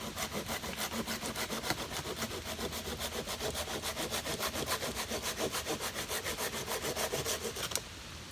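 A Silky folding saw cuts a small piece from a wet, freshly cut chunk of chaga fungus in steady, rapid back-and-forth strokes that sound close and rasping, then stop abruptly near the end with no voice.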